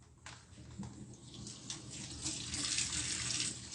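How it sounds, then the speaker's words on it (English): Tap water runs into a sink to rinse out a cleaned, scraped cooking pan, a steady hissing splash that swells slightly louder over a few seconds, close and alone. "I want to rinse it out first."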